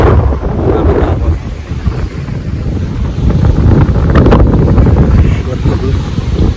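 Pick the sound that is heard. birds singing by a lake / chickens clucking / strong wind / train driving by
strong wind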